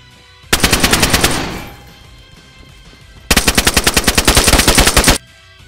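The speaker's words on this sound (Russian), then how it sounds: "Нет, не убил, стреляй, Саня." Automatic gunfire in DayZ Standalone, two loud, rapid bursts of evenly spaced shots, the first about a second long with a fading echo, the second longer, separated by a short lull.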